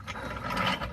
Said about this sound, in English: you just take your tire iron, tighten all your lug nuts down using the same star pattern